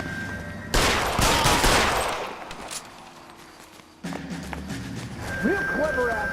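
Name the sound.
gunfire in a film shootout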